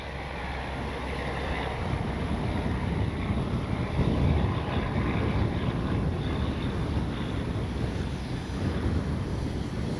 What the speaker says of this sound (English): it is super windy